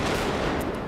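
Dense burst of gunfire from the film Joker, a rapid crackling volley of crisp shots packed tightly together, loud and continuous with no talk over it.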